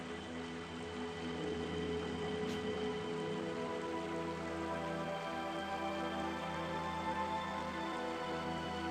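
Steady rainfall in the video game Radiant Historia: Perfect Chronology, a continuous even hiss of drops with a low ambient hum beneath, constant in level throughout with no talking.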